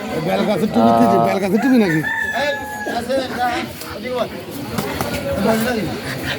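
A rooster crows loudly and nearby at a poultry market where Chinese ducks are sold, followed by clucking and bird calls over the busy background of the market. People talk throughout.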